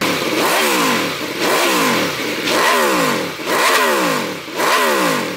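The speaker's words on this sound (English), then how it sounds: "this bike, it has a V4 in it, which V4s, we all know, are really cool sounding engines" A Honda CTX1300 V4 motorcycle engine revs repeatedly, about five rising-and-falling throttle blips in a steady rhythm, loud and close with no talking.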